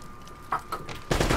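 Turret gunfire in the video game Uncharted: Drake's Fortune Remastered, heard as a short burst of rapid shots that swells loud toward the end, over a steady game background hum.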